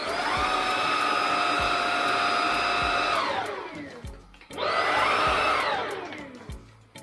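A Xiaomi 1C cordless vacuum cleaner with its floor head motor fitted whines steadily at high pitch, spins down to a stop, then starts up again and runs, close and loud with no talk.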